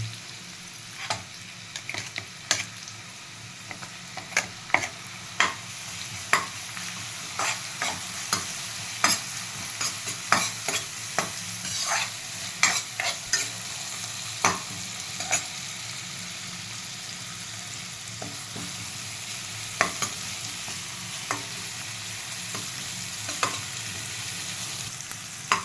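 Sliced onions fry steadily in hot oil in a home kitchen while cooking biryani, a constant soft sizzle broken by sharp scraping and clinking strokes of a spoon against the pan throughout.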